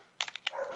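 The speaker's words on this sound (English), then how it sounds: "Excuse the dogs barking in the background." Dogs bark in the background of an indoor radio broadcast, a quick cluster of three or four short, faint yaps.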